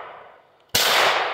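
A Taurus TX22 pistol fires a single sharp gunshot up close, bursting out of a quiet outdoor background and ringing on briefly.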